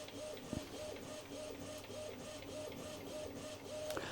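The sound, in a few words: Epson WF-2010W inkjet printer printing a page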